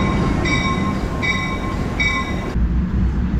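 A New York City subway train rumbles loudly and steadily close by while a high electronic chime repeats three times at even intervals before the noise shifts abruptly.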